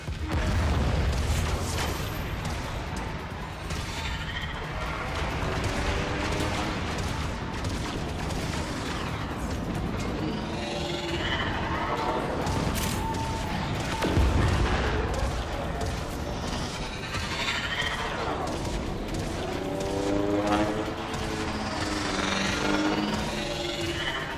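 Warframe space combat: torpedoes and heavy gunfire boom in rapid, overlapping bursts, a dense barrage of rumbling explosions and shots with swooping tones, and a voice speaking briefly amid the din.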